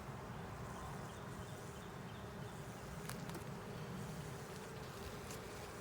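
Honey bees buzz in a dense, steady drone during an inspection of a ten-frame deep hive with a strong colony, a close, continuous hum with a few faint clicks.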